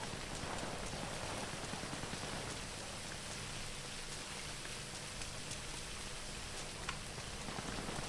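Steady rain falls in a dense, even hiss with scattered drops pattering on surfaces, no voices, in the video game GTA Online.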